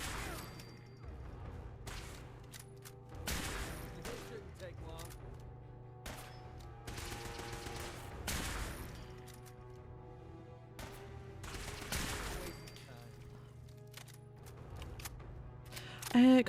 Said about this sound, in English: So we know I'm panic shooting.